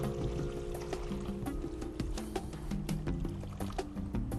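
Water, about one and a half to two cups, pours onto dry salted pasta in a Tupperware microwave pasta cooker, a steady splashing trickle with bright plinks throughout, no talk.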